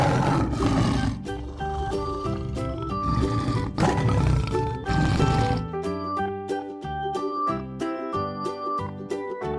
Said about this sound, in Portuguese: tigre